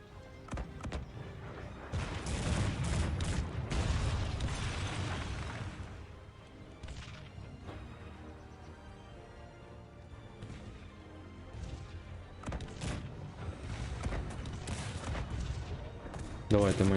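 Repeated booming cannon shots and crackling gunfire from a Cossacks 3 siege battle, with bursts of heavy impacts under a voice talking.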